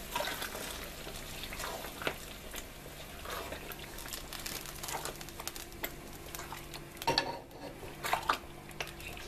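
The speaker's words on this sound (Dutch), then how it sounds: "Dat roeren we er lekker doorheen." Coconut is stirred into rendang in a pot: a quiet, soft scraping and wet churning with scattered clinks of a utensil against the pot, a few louder knocks near the end, and no talking.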